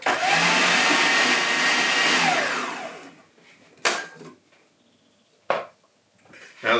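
Gluten-free rice-flour Easter bun mixture with chopped ginger being mixed, starting as a loud steady electric mixer whir that winds down, followed by quieter gaps and two or three short clattering bursts.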